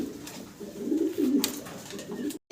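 Pigeons in a fancy-breed pigeon market cage give soft, throaty coos that swell and fade in a continuous murmur, close by, with a brief cut to silence near the end.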